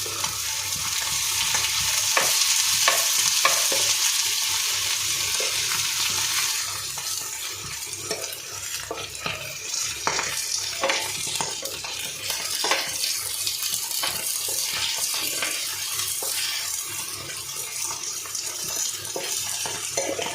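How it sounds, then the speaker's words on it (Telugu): Egg frying in oil in a pan while being stirred, a steady close sizzle overlaid with frequent scraping and stirring strokes, no one talking. "ఇలానే మధ్య మధ్యలో కలుపుకుంటూ ఎగ్ని ఇంకొక 5 మినిట్స్ ఇలానే ఫ్రై చేసుకుందామండి"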